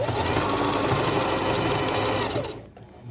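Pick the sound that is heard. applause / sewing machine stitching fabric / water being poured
sewing machine stitching fabric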